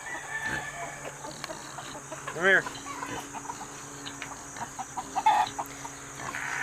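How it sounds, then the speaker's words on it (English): Free-ranging farm chickens clucking, with a rooster crowing in the middle, several short calls scattered across the clip, and a person briefly speaking to an animal. "I have chickens running loose"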